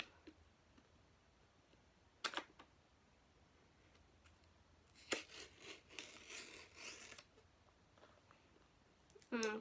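Plastic packaging for Yum Dinger and Yum Crawbug fishing baits being cut open with a knife, heard as a short crinkle, a pause, then a longer burst of scraping, tearing and crinkling and a final crackle, close and fairly quiet.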